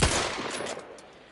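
A gun fires short rounds in The Outer Worlds 2, a loud burst of rapid gunfire at the very start that decays into a fading, noisy tail with no voices.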